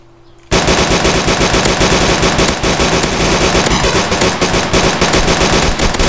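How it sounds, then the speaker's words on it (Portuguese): Sustained automatic gunfire bursts in from near silence in the DayZ video game, a loud, dense and continuous rattle of rapid shots that runs unbroken for several seconds. "Eu dei um monte de tiro nesse cara, velho."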